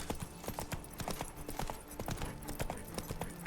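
Horse hooves clip-clop steadily across a graveyard in The Witcher 3 video game, a quick, even rhythm of close, fairly quiet footfalls with no talk over them.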